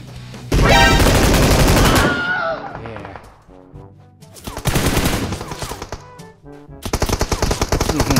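Video game gunfire comes through a Logitech G335 gaming headset in loud, rapid automatic bursts separated by pauses, with the player's voice faintly audible between shots.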